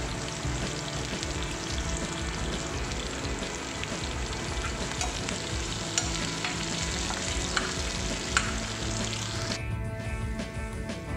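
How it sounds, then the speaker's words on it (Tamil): Onions and guava pieces sauté in a hot pan for chutney, giving a continuous close crackling sizzle broken by scraping stirs, steady and loud throughout with no talking. "வெங்காயம் வதங்கினோடனே அந்த கொய்யாக்காவையும் சேர்த்துக்கிடுவோம்."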